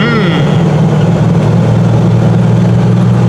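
A 1985 bullnose Ford Bronco with a swapped engine roars in a loud, steady low drone while accelerating, mixed with dense road and wind noise.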